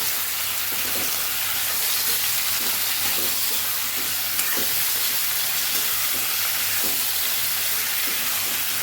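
A steady sizzling hiss of potatoes frying in a pan with turmeric, continuous and fairly loud, with faint scraping now and then and no voices.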